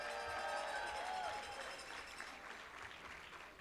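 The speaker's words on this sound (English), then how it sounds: "since you're already clapping" A commencement crowd in a large hall applauds the college staff with a sustained wash of clapping that gradually thins toward the end.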